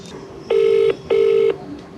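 A phone call is being placed and the caller hears two long, loud ringback tones in a row, separated by a brief gap, over a faint background hum.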